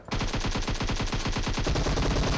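Rapid automatic AKM rifle fire in a video game, a loud, close, continuous burst of evenly spaced shots lasting the whole moment.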